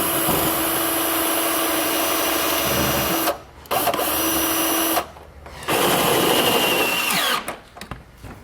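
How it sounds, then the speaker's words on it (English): A power drill drives a self-tapping screw into a small bracket on the bumper of a 2018 Chevrolet Silverado, whirring loudly in three sustained bursts separated by brief pauses, with no talking. "I'm just going to run a self-tapper through this little bracket in our bumper."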